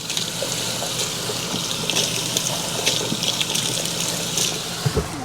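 Water mixed with vinegar runs from an RV faucet in a steady, close gushing stream that holds even from start to finish, with no voices over it.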